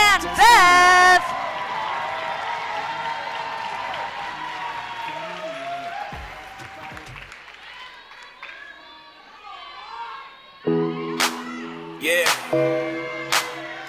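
An audience claps and cheers for dancers at a Jack and Jill dance competition finals. A burst of applause and crowd noise swells, then fades, with voices and music around it.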